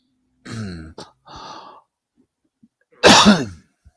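A single sharp, loud sneeze bursts out close by after several quieter throat sounds and breaths, with near silence in between.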